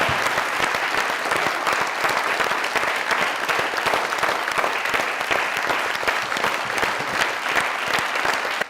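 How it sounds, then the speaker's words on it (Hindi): A studio audience gives actor Abid Ali a standing ovation, with loud, sustained clapping from many hands that stays even and dense throughout, with no talk over it. "आबिद अली साहब के लिए एक स्टैंडिंग ओवेशन"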